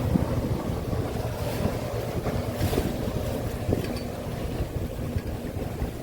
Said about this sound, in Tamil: அந்த போட்டை இந்த பக்கமும் அந்த பக்கமும் ஆட்டி ஆட்டி கொண்டு போவாங்க. நல்ல ஸ்பீடாகவும் போவாங்க.